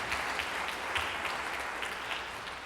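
Audience applause at a keynote address, a steady dense wash of many hands clapping at moderate distance, sustained throughout without talk.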